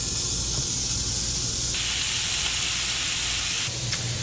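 Beef bits sizzling in hot bacon grease in a pan, a continuous broad hiss that brightens as more pieces go in, steady and close with no talk.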